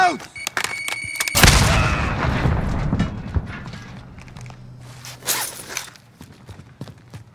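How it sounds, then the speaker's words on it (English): A grenade explodes in the Call of Duty Warzone video game, a loud close boom with a long rumbling tail that fades under scattered gunfire and game noise, with a few later impacts. "Grenade out!"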